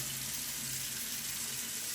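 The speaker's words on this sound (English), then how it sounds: "Rinse the chamber thoroughly to ensure no reagent residue remains." Water runs steadily as it rinses the measuring chamber of a pool water tester photometer, making a close, continuous splashing rush.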